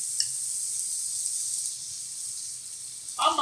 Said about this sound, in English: We're gonna go onions straight in.